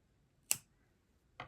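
Scissors cut crochet yarn with two crisp, close snips about a second apart in an otherwise quiet room.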